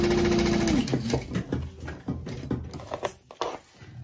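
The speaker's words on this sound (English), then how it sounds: "sewing the bottom seam of the side gusset together" A sewing machine stitching the bottom seam of a small backpack's side gusset, a short whirring run up close followed by uneven mechanical clicks and handling knocks as the fabric moves.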